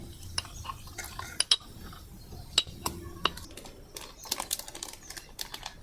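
A spoon or utensil clinks and scrapes against a bowl while besan shev dough ingredients and chilli powder are stirred together, with sharp, irregular taps coming close and fairly quiet.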